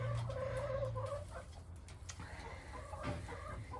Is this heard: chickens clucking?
yes